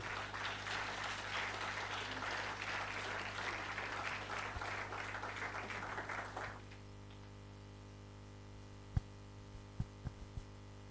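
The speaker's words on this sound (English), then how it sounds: "Please, another round of applause for him." Applause for a lecturer at a university inaugural lecture, a steady round of clapping from an audience over a low hum that stops abruptly, leaving only the hum and a few faint knocks.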